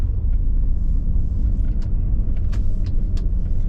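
Low, steady road rumble from a Jeep Grand Cherokee WJ on the move after sitting unused a long time, a constant engine and tire drone filling the clip with a few faint higher clicks and squeaks over it, no talk.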